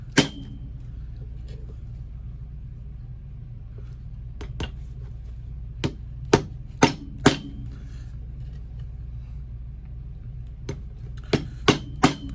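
Sharp, close hammer taps drive nails into the underside of an Allen Edmonds leather shoe during restoration, scattered singles and quick pairs over a low steady hum.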